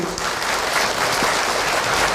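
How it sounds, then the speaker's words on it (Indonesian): An audience at an Indonesian religious talk claps together, a dense, steady patter of many hands that fills the whole short stretch without a pause. "boleh tepuk tangan untuk Ahilman Bu"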